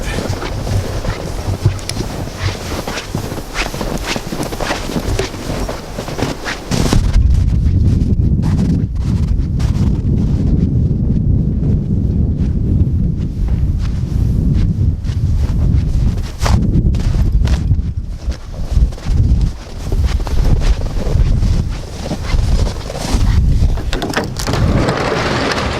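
A Chevy Avalanche engine cold-starts partway through and settles into a steady, loud rumble. Gusty wind buffets the microphone throughout.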